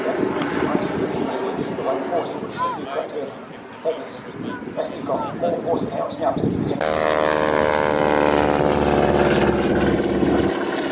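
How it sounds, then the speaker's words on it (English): A loud, steady propeller-plane roar swells on takeoff at an air show, joined by a buzzing tonal whine from the propeller tips going transonic; voices talk over the first half. "It is actually the propeller tips. The tips basically go transonic during takeoff."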